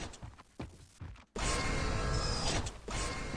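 Door mechanism sound effect from a video game, the same one used for lifts: short creaking mechanical bursts that give way to a sustained loud grinding whir, with no one talking.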